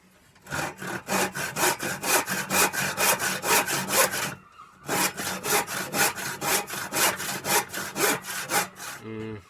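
Big-toothed hand saw cutting wood in steady rhythmic strokes, about two per second, close and loud; a brief pause midway, then the sawing resumes before stopping.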